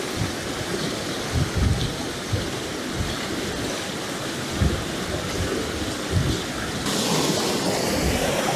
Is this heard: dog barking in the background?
no